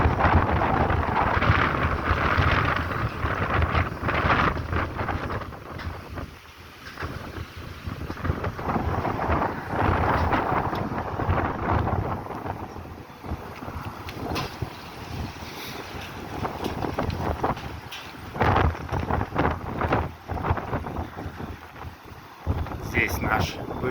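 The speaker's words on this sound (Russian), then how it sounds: "Здесь опять сильный холодный ветер." Strong cold wind roars and buffets the microphone continuously outdoors on a town street, with loud gusting rumble rising and falling throughout.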